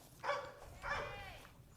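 Tarzan, a Belgian Malinois, lets out two distinct barks spaced about half a second apart, fairly close by, over faint background noise.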